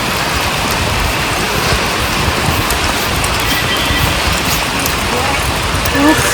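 A loud, steady downpour of heavy rain at Kalaseshwara temple hisses continuously, dense and close, with a faint brief tone near the end.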